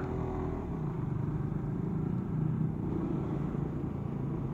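A Suzuki GSX R150 motorcycle riding on a road, its engine a steady low rumble with wind noise, holding an even drone throughout with no talk.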